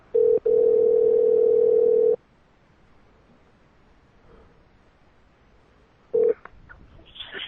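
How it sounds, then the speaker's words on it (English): A telephone ringing tone sounds while a call is being placed, with a steady tone of about two seconds, a long quiet pause, then the start of another ring cut short. "Oh, here we go. We're ringing now."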